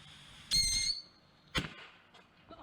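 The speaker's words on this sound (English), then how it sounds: "Everything can launch fireworks." Two sharp fireworks launches burst out one after the other with whistling crackle, loud and close, separated by a short quiet gap and followed by faint fizzing.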